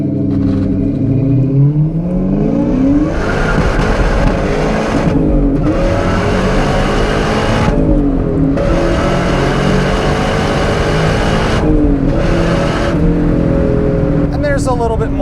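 A 2004 Ford SVT Cobra with 19,000 miles accelerates hard through several gears, its engine note climbing in loud rising sweeps with brief dips at each shift, heard from inside the car throughout.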